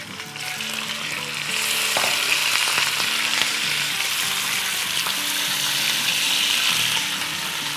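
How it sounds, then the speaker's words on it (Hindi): Goat meat fries with garam masala for an aloo gosht salan, a steady loud sizzle with scraping stirs for nearly eight seconds, no voices present. "बस 1-2 मिनट गरम मसाले के साथ भूनेंगे"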